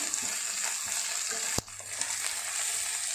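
Capsicum, carrot and boiled beans fry in a pan for pasta, giving a steady, even hiss. A single sharp clank of a utensil against the pan cuts in halfway through, and there is no speech.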